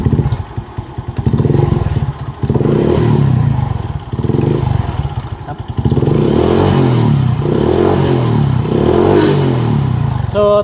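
A motorcycle with a charging fault, after its battery and regulator were replaced and with its stator suspected, is revved in repeated surges, about five throttle blips rising and falling over a steady idle, close and loud with light mechanical clatter.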